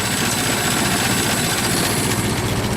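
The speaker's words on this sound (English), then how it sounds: "That's idling, but it's about half spark." A Ford Model T four-cylinder engine idles at minimum throttle with the spark about half advanced, a steady, close, loud mechanical chug with an even rapid pulse and no talk.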